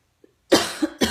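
A couple of close, loud coughs in quick succession, the first a harsh burst followed by a shorter second cough.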